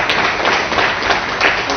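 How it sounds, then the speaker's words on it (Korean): A seated audience at a Seoul press-center panel debate claims applause for the introduced speakers, a short burst of close, loud clapping that holds steady throughout. "다시 한번 심차게 박수 보내주시기 바랍니다"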